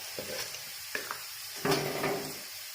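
Coriander powder being stirred into half-cooked frying onions for a Kerala chicken stew: a soft sizzle with a few scraping stirs, then a louder stir near the end, close and alone.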